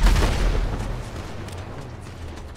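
Explosions and gunfire in the video game GTA V make a heavy booming blast with a long rumbling decay, loud at the start and fading over a couple of seconds.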